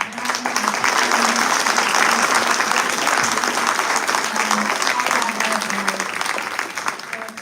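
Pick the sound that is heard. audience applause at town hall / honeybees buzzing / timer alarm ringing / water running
audience applause at town hall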